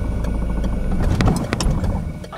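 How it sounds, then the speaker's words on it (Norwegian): A car engine turns back over and settles into a low, steady idle, close and moderately loud, with a few clicks and knocks over the rumble. "Du starter bilen på nytt."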